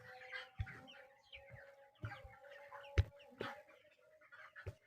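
On a poultry farm, 27-day-old broiler chickens cluck in scattered, uneven bursts over a faint, steady hum, quiet and a little distant.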